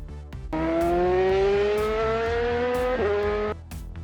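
Hot Wheels toy cars race down a plastic trap track, heard as one loud, steady whirring engine-like tone that climbs slowly in pitch for about three seconds, then breaks off with a sudden jolt and dies away.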